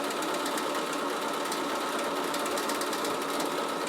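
Bernina sewing machine stitching in place to attach wool onto a half moon bag, a steady continuous mechanical whir with fine rapid needle ticks, close and unbroken with no talking.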